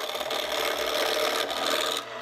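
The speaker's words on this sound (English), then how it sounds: "the first step is going to be shaping the main body, and we'll do that on the lathe." Old cypress window trim shaped on a lathe gives a steady, close, continuous rasping scrape of the tool cutting the spinning wood, unbroken for about two seconds and alone.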